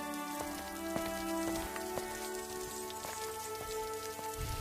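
Steady rain falls on a surface, a dense, even patter that continues unbroken throughout at moderate loudness with no voices.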